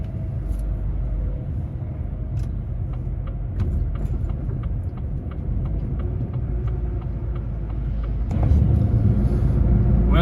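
Truck on the road in Ramelton, County Donegal, a steady low engine rumble and road drone running throughout, with clicks and a louder surge of noise near the end.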